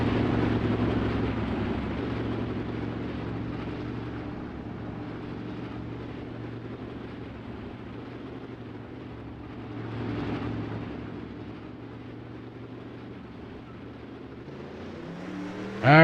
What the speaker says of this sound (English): These guys can get these engines warmed up a little bit.